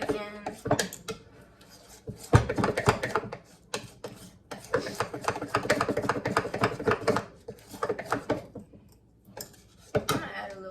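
Spoon stirring cinnamon into a mixture in a home kitchen, giving a close run of busy clinks and scrapes against the bowl with short pauses between bursts.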